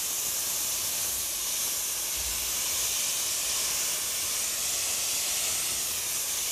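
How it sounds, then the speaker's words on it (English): A spray gun applies coating onto the squeegee side of a screen printing mesh, producing a continuous, steady hiss of spray that runs unbroken throughout, fairly loud and close. "Now, what I do is with this spray gun, now I apply on the print or squeegee side."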